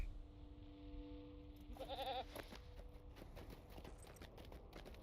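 Goat mount hooves in LOTRO clatter in a quick, steady clip-clop with a short bleat-like call, fairly quiet behind game ambience.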